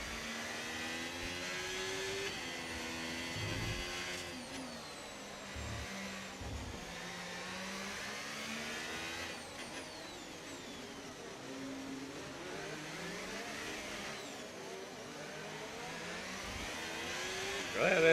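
Formula 1 car engines in an F1 25 video game race wail and rev continuously, pitch sweeping up and down through gear changes while catching lap traffic, steady and fairly loud throughout.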